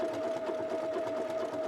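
A home sewing machine runs steadily, stitching fabric for a Strathcona Henley shirt, with a constant mechanical hum and fast needle rhythm throughout, close and moderately loud.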